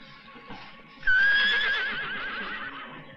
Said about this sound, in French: C'était un hennissement, je vous dis.